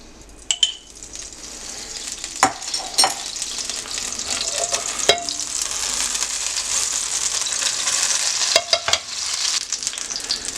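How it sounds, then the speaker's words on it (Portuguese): Bread slices frying in sun-dried tomato olive oil in a pan, a steady hissing sizzle that builds over time, punctuated by sharp clinks and scrapes of utensils against the pan. "vamos pegar uma frigideira e aquecer ela com um pouco do azeite do próprio tomate seco"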